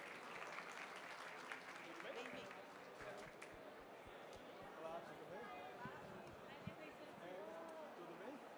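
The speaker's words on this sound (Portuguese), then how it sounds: "Uma salva de palmas, por favor, para os nossos convidados." An audience at a Seafood Show Latin America seminar in São Paulo applauds guests with a sustained, fairly faint patter of clapping, with voices murmuring underneath.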